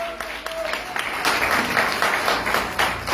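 A crowd applauds at a Pentecostal church congress, dense clapping swelling after a moment and holding steady, loud and close, with a voice briefly heard at the start.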